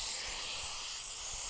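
Water sprays steadily from a hose or shower head onto a dog during a bath, giving a continuous close hiss with faint low splashing underneath and no voices.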